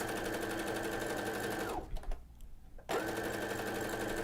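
A sewing machine fitted with a binder foot stitches starch-stabilized knit fabric, running in a loud steady whir, pausing briefly near the middle and then starting again.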